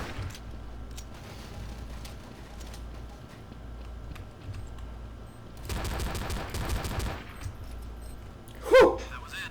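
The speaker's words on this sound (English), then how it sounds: "I headshot that guy just bang, bang, bang, bang, bang, bang with this 228" P228 pistol shots ring out in the video game Counter-Strike: Source. A rapid string of shots cracks in the middle, and a single louder bang follows near the end over quiet game ambience.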